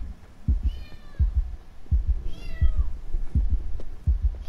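A cat meows twice in drawn-out, wavering cries over a steady thumping, heartbeat-like low pulse in a game setting, no talk.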